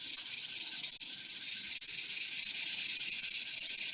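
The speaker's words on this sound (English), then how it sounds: "you're going to get the 320 grit, which is this small piece right here, and you're only going to sand the surface" Fine 320 grit sandpaper rubs back and forth across a wood surface in a quick, even rhythm of short hissing strokes, close and steady with no talk.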